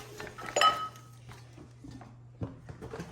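A sturdy container lid found while dumpster diving is handled, giving a sharp clattering knock early on, a second thud later, and light rattles and scrapes between.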